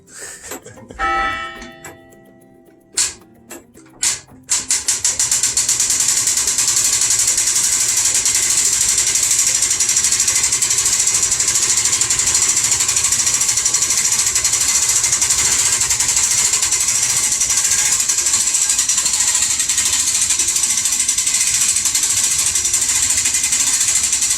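A 1919 clock tower's winding mechanism is hand-cranked, opening with a few loud irregular clanks and knocks, then settling into a steady, loud mechanical grinding whir that runs unbroken to the end, with no talking.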